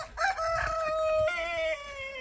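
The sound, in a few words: chickens and rooster on a farm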